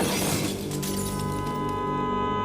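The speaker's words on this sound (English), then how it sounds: "crashing into a large rock." A car runs off a highway at night and crashes into a large rock: a loud smash with shattering glass, followed by a sustained steady tone that carries on after the impact.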